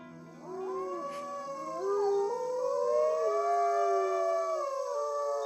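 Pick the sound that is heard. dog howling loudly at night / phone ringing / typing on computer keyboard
dog howling loudly at night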